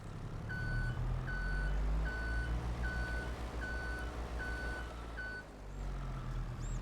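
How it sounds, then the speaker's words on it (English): A heavy tractor engine in Farming Simulator 22 rumbles low and steady while a reversing alarm beeps seven times at an even pace over it. "I'm going to hop in the tractor here and start it up so you can hear."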